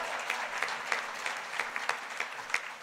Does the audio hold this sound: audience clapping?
yes